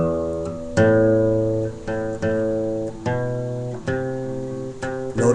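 Guitar plays the second part of a song as a lesson example, a short phrase of plucked notes. Each note rings and decays in turn at an even pace, close and clear, with no voices.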